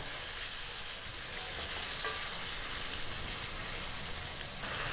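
Masala for a cauliflower gobi butter masala fries in oil as the spices cook down, giving a steady, even sizzle throughout, moderately quiet and uninterrupted, with no talking.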